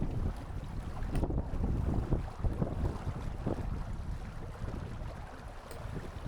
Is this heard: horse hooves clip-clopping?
no